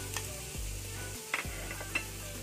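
Onion and garlic fry in hot cooking oil in a pan for a Filipino string bean omelette dish, a quiet steady sizzle with a couple of faint clinks of stirring.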